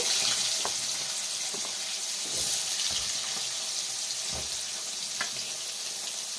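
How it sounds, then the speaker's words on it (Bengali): Potato pieces fry in oil left over from frying fish, a steady soft sizzle with faint crackles and small pops throughout, close by, with no talking. "এবার আমি মাছ ভাজা তেলে আলুটা ভেজে নেব।"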